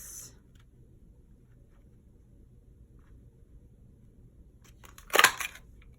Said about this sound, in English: Punch this little guy out just like this.